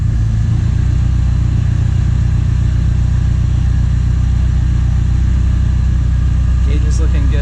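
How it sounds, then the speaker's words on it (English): A car engine on E85 fuel idling loudly just after a cold start, a steady low rumble with a slight lumpy pulse that holds throughout, with a brief brighter sound near the end. "That E85 cold start though."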